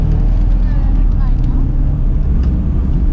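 Car engine on a track lap at the Nürburgring, running on Michelin Pilot Sport 4S tires with PowerStop track day brake pads: a loud, steady engine drone and road roar filling the whole clip, with a voice faintly underneath.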